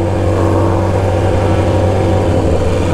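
A BMW S1000RR motorcycle with an aftermarket exhaust runs steady and loud nearby, its deep engine drone holding a strong low hum throughout, with a slight rising rev near the end.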